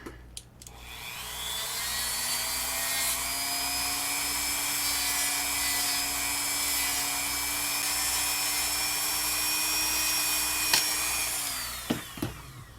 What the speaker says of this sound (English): We need a little bit of edge cleaning, which that's what the Dremel's for.